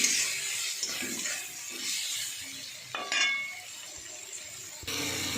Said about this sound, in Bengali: সামান্য জল দিয়ে দেবো, দিয়ে একটু কষাবো মশলাটা।